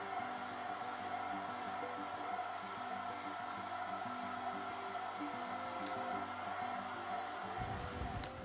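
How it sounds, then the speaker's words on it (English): A hair dryer blows steadily on freshly painted craft work for a primitive-style patriotic banner, a loud continuous whooshing hum that runs unbroken for several seconds before cutting off near the end. "You don't have to blow dry it."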